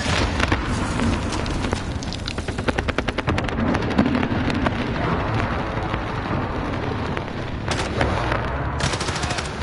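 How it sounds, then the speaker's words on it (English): Call of Duty precision airstrike: rapid gunfire and explosive blasts pound in dense, loud bursts over a roaring background, with a sharp rattling volley partway through. "Enemy precision airstrike inbound."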